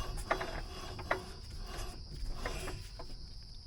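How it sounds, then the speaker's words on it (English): The starter motor engages on a John Deere riding mower, producing a faint mechanical whirring and ratcheting with a couple of sharper clicks early on, heard close and without speech. "See, look at that, starter's engaged."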